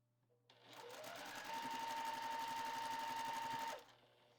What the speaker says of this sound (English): I'm going to put them right sides together, and I'm going to sew those 2 together